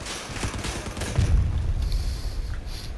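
A rapid volley of cannon blasts from a low-mounted combat vehicle build in the video game Crossout, a cluster of sharp booms in the first second and a half followed by a heavier low thump and fading mechanical rumble.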